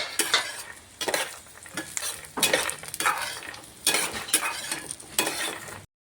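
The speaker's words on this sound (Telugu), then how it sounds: "వెల్లుల్లి రెబ్బలు కొద్దిగా కలర్ మారిన తర్వాత మనము ముందుగా వేయించి పెట్టుకున్న పల్లీలను ఈ ఆయిల్లో ఫ్రై చేసుకోవాలండి." Pre-roasted peanuts and garlic cloves fry in hot oil in a pan, with a soft continuous sizzle broken by repeated bursts of scraping as the spoon stirs them every second or so; close and fairly quiet, with no voices.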